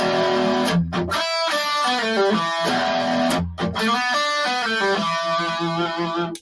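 A distorted electric guitar plays a short bluesy riff twice, bending notes and sliding between chords, loud and close with no other sounds.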